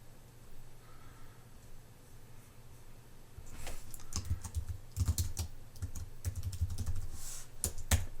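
Clicky typing on a computer keyboard while a product name is entered, bursts of keystrokes starting a few seconds in and continuing in quick irregular runs, close and fairly quiet over a low steady hum.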